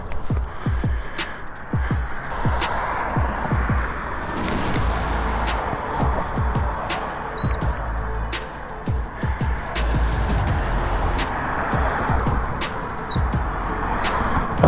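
Steady road traffic with vehicles rumbling past continuously, some louder passes, and faint bird chirps above the noise.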